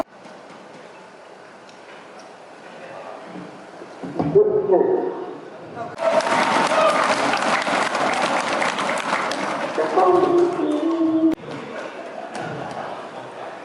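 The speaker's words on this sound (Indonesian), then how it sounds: "Kita berikan tepuk tangan untuk Bapak Jokowi." Audience applause for President Jokowi at a halal bihalal gathering of Indonesian YouTubers, a loud sustained burst of clapping that swells and holds for several seconds, with a voice talking before and over it.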